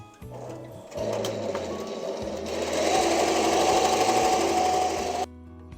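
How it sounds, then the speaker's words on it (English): Embroidery sewing machine running a basting stitch around a patch design, a steady close mechanical whir with fast rhythmic needle pulsing that speeds up midway and then stops abruptly. "We're going to do the basting stitch and just allow the design to stitch out completely."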